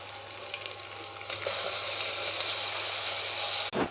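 Mutton goes into a pan of ginger garlic paste and fries with a loud, steady, close sizzle that runs throughout, broken by a brief clunk of utensil or pan near the end.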